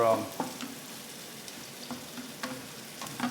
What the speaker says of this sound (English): So onions and red chilies. They're cooking in the pan there.